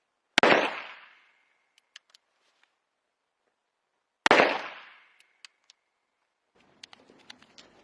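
Two loud, close revolver shots from a Smith & Wesson ring out several seconds apart, each with a sharp crack and decaying tail, followed by small clicks and rattling handling noises.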